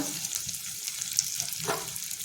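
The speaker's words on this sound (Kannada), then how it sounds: "ಒಂದು ಸ್ವಲ್ಪ ಹುರ್ಕೊಳ್ಳೋಣ ಇದನ್ನು" Carrot, onion and green chilli with a little salt sizzle in a pan, giving a close, soft, steady frying crackle with light stirring sounds.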